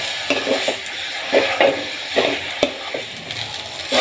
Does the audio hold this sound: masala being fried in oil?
yes